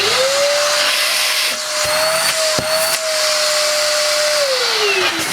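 A Hoover Junior Athyss ST226F stick vacuum cleaner runs with its hose attached, a loud close motor whine that spins up, holds steady with a few knocks and bumps, then winds down at the end.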